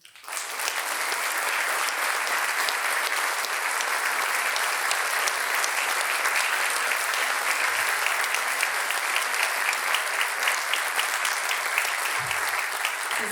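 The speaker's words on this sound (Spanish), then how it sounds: "despedimos con un aplauso a las banderas de ceremonia" An audience applauds the ceremonial flags at a school event, with dense, even clapping from a large crowd sustained loud and steady throughout.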